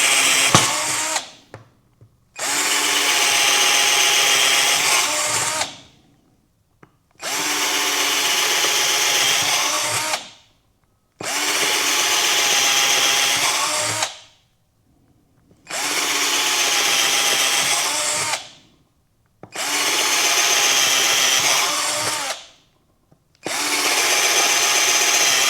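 Harbor Freight's cheapest drill bores into wood in seven loud, steady bursts of whirring motor and bit grinding, each lasting a few seconds and separated by short pauses of silence.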